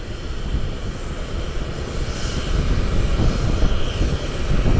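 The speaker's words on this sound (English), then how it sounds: "737-700 pulling into its gate" A Southwest Boeing 737-700 taxis toward its gate, its engines giving a steady, broad rumbling roar that swells slightly partway through and holds close and continuous.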